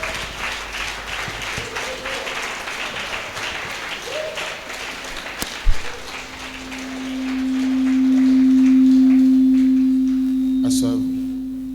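A church congregation at a Sunday worship service applauds in acclamation, a busy crowd of clapping for several seconds, followed by a sharp knock and then a loud sustained electronic tone swelling and fading near the end.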